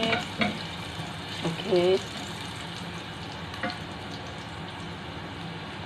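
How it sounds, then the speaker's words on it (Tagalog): Garlic sizzles steadily in a hot pan with vegetables, with a few scraping stirs and clinks over the constant frying hiss; a voice speaks one brief word. "Prito na ako ng pinafry ko na yung garlic."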